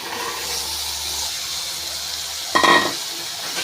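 A kurma pan sautés with a steady hiss until chopped vegetables and chickpeas are tipped in, setting off a sudden louder sizzle and splash, then the frying settles again.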